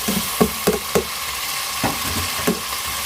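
Chopped tomatoes frying in a pan for aloo tahari, a steady close sizzle broken by several sharp scrapes and knocks of a spoon stirring at irregular intervals, with no talk.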